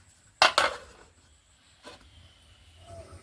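A metal lid goes onto a pot of duck curry in a village kitchen: two sharp clanks close together, then a softer knock, with quiet surroundings afterward.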